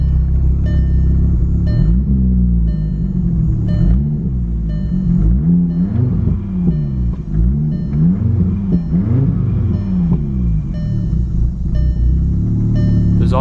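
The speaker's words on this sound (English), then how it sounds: "maybe you can hear it in the exhaust note" A VW Golf R Mk6 engine and exhaust with a fault that keeps it from revving past 2,000 rpm, a loud, close, droning rumble that rises and falls in short, strained surges and never climbs high.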